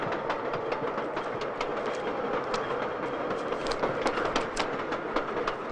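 A train runs steadily along the rails, a continuous loud rumble dotted with repeated clicking and clattering from the wheels, with no voices over it.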